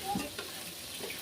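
Small shallots sautéing in a pan for a fish gravy with garlic, a soft steady sizzle with faint stirring scrapes, fairly quiet and close, no talking.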